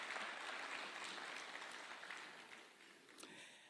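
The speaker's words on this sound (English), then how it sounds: "Tupatie hawa majenzi a round of applause." Faint, distant audience applause at a Kenyan public event with the president present, a dense wash of clapping that slowly tapers off, with a brief louder clap near the end.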